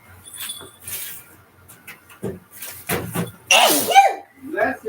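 A single abrupt sneeze bursts out in a lively household, loud and sharp, set among nearby voices talking and laughing.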